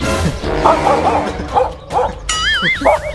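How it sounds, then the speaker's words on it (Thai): Dog barking in short yips and bow-wows at a home in Thailand, several barks spread across the moment, mid-distance, over background noise and a sliding whistle-like tone. "เดินมาหมายังเห่า"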